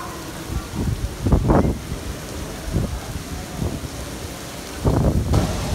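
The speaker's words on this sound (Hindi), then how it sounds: "बाहर बारिश हो रही है तेज़" Heavy rain at Faisal Mosque in Islamabad, a constant hiss of downpour with wind buffeting the microphone in repeated low gusts, some stronger bursts near the start and end.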